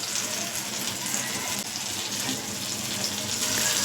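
Water is poured off while cooking, for a spicy Marathi dried bombil fish dish with brinjal and potato, making a steady, close splashing gush like a running tap that lasts throughout without pause.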